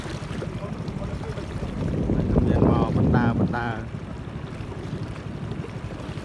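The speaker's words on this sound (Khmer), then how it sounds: "ទូកឬទូកម៉ាស៊ីន" A motor boat runs steadily on a river at a dolphin pool in Stung Treng province near the Lao border, its engine drone mixed with wind buffeting the microphone while a voice speaks briefly over it.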